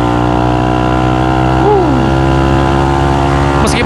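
A trail motorcycle with a fuel-injected engine hums steadily at close range while being ridden, with a brief rising rev in the middle and a clunk near the end.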